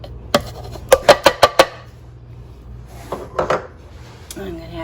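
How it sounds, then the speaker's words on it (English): Jalapeno peppers, tomato and onion tipped from a bowl into a food processor for salsa verde, giving a quick run of five sharp clatters followed by softer knocks and rattles, close by, with no talk. "I'm going to add the pepper, tomato, and onion bowl."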